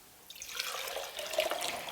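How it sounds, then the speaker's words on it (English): Tap water pours into a glass holding a teaspoon of saturated salt solution, a steady close trickle that swells and brightens as the glass fills, with no talking. "And then we fill the glass with water."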